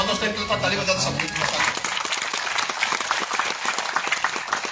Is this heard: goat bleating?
no